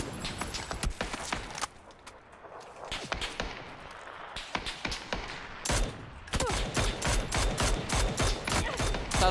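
Rapid bursts of gunfire in PUBG, sharp cracks in quick volleys with a short lull, then dense shooting resumes loud and close.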